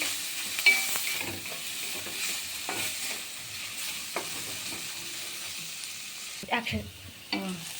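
Paneer and noodles tossed with spices in a frying pan, a steady soft sizzle under intermittent scraping stirs, with a few louder clatters of the utensil near the end.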